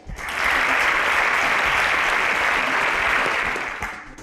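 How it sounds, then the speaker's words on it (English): A studio audience at a quiz show bursts into applause for contestants, a loud, dense wall of clapping that swells in quickly, holds steady, then tapers off near the end. "Okay, round of applause for them,"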